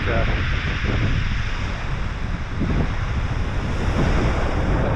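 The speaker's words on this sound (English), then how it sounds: "But it's very windy as well" Strong wind roars and buffets the microphone continuously, with a low rumbling gust noise and a faint voice underneath.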